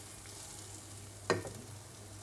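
Onions fry in a pan with a faint, even sizzle, interrupted once by a brief clank of a utensil against the pan.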